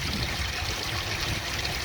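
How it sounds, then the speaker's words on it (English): Water pours from a 4-inch pond return pipe into a homemade sieve at a koi pond, giving a steady, close, rushing splash that stays constant throughout with no talking. "4-inch return, and it's not keeping up with that water flow"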